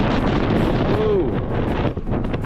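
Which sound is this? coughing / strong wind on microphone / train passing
strong wind on microphone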